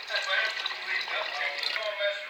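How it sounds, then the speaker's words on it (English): Water poured from a container into a pot of Jamaican cow cod and cow skin soup with coconut, a steady continuous splashing pour lasting about two seconds, close and moderately loud. "put some water on that, guys."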